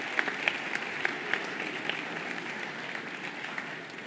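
A small debate audience gives a round of applause for the candidates at a Boys State gathering, steady quiet clapping throughout with a few sharper claps standing out, heard from a distance.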